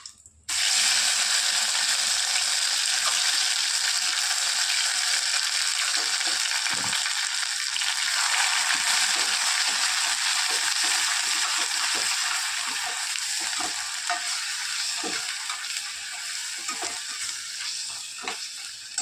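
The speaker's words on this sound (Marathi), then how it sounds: "टाकत आहोत जिरे कढीपत्ता आता टाकत आहोत मसाला" Cumin, curry leaves and masala fry in oil in a pan for paneer masala, giving a loud, steady, close sizzle that runs the whole time, with faint scrapes and clicks of stirring.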